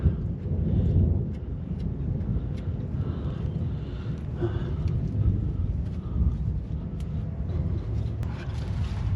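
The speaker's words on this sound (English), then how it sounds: "there goes some more thunder." Low, rumbling thunder rolls steadily through the clip, a continuous deep roar with wind buffeting the microphone and no clear voices.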